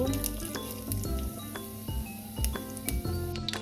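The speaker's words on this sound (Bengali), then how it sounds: "তেল দিয়েছি, জিরে দিচ্ছি অল্প" Cumin seeds go into hot oil for a red lentil soup, giving a soft steady sizzle with light clinks of utensils against a pan, close and moderately quiet, with no voices.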